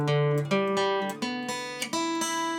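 A freshly tuned acoustic guitar is strummed and plucked in several distinct attacks, each ringing out with clear sustained harmonic tones, played alone and fairly close.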